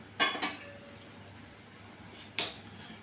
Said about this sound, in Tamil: ஒரு பாத்திரம் வச்சுக்கோங்க. ஸ்டவ் ஆன் பண்ணிக்கோங்க.